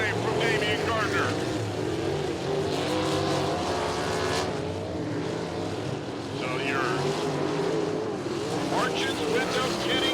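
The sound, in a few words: sprint cars racing at Lincoln Park Speedway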